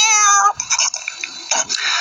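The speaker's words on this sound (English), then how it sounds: "I think this is what we call in the kitty world a hiccup." A cartoon cat character, Puss in Boots, lets out a string of squeaky, voiced hiccup-like bursts that sound close to meows. A long tonal cry comes first, then several short separate hiccups, all loud and close.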